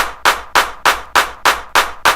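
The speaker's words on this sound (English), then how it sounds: "But this is what the hot girl clap sounds like" A hot girl clap drum-kit sample for a New Orleans bounce beat strikes eight times in a steady, evenly spaced rhythm. Each hit is crisp, bright and loud with a short fading tail, and nothing plays between the claps.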